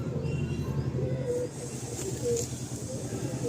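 Breeding-loft pigeons coo in soft low murmurs, close and continuous over a breathy background hiss.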